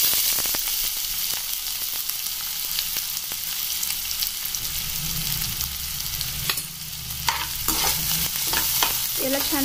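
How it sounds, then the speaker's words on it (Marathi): Finely chopped onion and green chili hiss loudly in hot oil while cooking paneer bhurji, a continuous close sizzle broken by a few scraping stirs near the end. No voices. "आता मी हे बारीक केलेला कांदा आणि मिरची पण याच्यामध्ये ऍड करणार आहे।"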